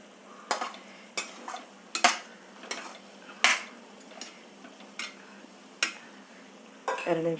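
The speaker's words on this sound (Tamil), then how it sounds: "இது பாருங்க, கொதிக்கிறது." Vathal kuzhambu curry with ladies finger simmers in a pan with a soft, steady sizzle, while a spoon clinks against the pan at regular intervals.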